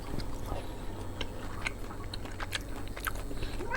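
Dried cranberries and a handful of mixed nuts including peanuts being chewed close to the mic, with steady crunchy bites and mouth sounds throughout, no talking.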